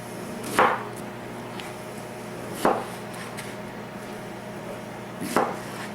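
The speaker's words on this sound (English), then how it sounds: "Here we're going to cut in nice 1/8-inch slices or so." A knife slices vegetables into thin eighth-inch pieces on a cutting board for keto bibimbap, three sharp, well-spaced chops against a low background hum, close and moderately loud.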